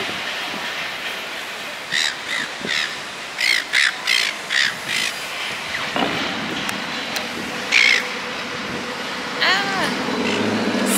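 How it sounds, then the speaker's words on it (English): Seagulls call repeatedly in short harsh bursts, some rising and falling in loops, outdoors at a bodybuilding posing session, with a steady rumble like a passing train underneath and people talking nearby. "Seagulls fucking everywhere."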